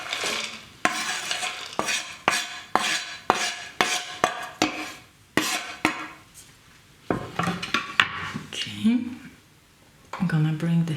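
Utensils scrape and clatter against a pan as ingredients for a plant-based spaghetti bolognese go into hot oil, a rhythmic series of stirring strokes, with a short sizzle near the end and a voice speaking briefly.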